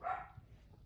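A single dog bark rings out near the start, fairly close, then the sound drops back to a low background murmur.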